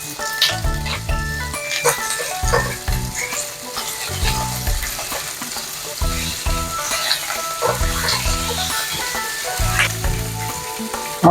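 Garlic and shrimp frying in a hot wok for a Chinese-style dish. The sizzle is loud and continuous, with repeated rhythmic stirring and scraping of utensils and a few clanks throughout.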